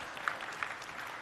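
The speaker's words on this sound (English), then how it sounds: "Big round of applause for everyone." Audience at a startup pitch competition grand finale claps in a brief, faint, dense patter heard from a distance, a short burst of steady applause with no talking.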